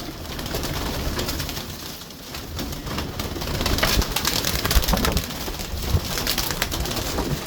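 Purebred Akal dumba pigeons coo in a loft, their low murmuring calls rolling on continuously under a busy background, with no talking.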